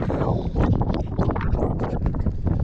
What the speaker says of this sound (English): Excuse the wind because it's quite windy today,